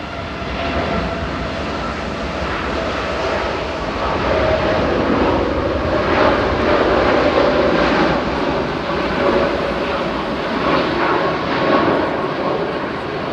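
A British Airways Airbus A350 jet passes at an airport on a windy day, giving a steady, broad engine roar that swells slightly midway and holds at a moderate distance, mixed with wind noise.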